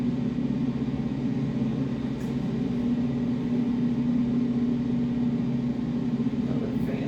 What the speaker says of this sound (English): our version of pink noise sounds like this